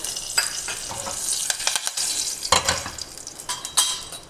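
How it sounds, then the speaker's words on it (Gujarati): Curry leaves dropped into hot oil already tempered with a pinch of asafoetida for a potato sabji, sizzling loudly and close in crackling bursts, with scraping stirring sounds throughout and no talking. "તેની અંદર આ 6-7 મીઠા લીમડાના પાન ઉમેરું છું."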